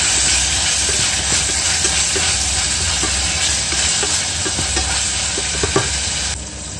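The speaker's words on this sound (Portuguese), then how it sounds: "Vou deixar refogar um pouco, junto-lhe também um pedinho de salsa cortado por inteiro." Vegetables and parsley sautéing in a pan, a steady loud sizzle and hiss with faint stirring clicks that drops slightly at the very end.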